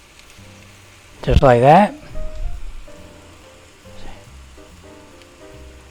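An egg dropped into a hot cast iron skillet with tomato, bursting into a brief loud sizzle that settles into soft frying crackle, with a person speaking briefly.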